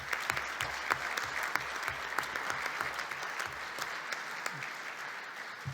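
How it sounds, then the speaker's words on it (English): Sustained applause from a university audience honouring a winning student team at a policy event, steady dense clapping throughout before fading slightly near the end. "A big applause to them."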